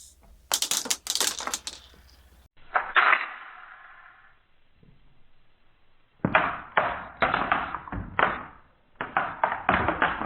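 Airsoft BBs spill onto the floor in quick clattering bursts of small hard clicks and rattles, separated by quiet pauses, close by and with no voices.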